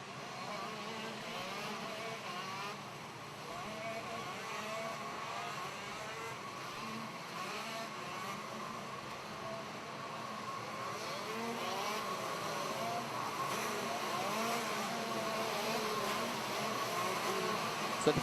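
Shifter karts sit idling on the starting grid of a Rok Cup International Final race, a dense, buzzing chorus of small two-stroke engines that holds steady and swells slightly toward the end.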